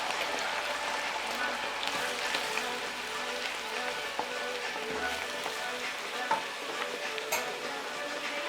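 Diced tomato and wine going into chicken cacciatore of boneless thighs frying in a pan, a steady close sizzle with stirring scrapes throughout and no talk.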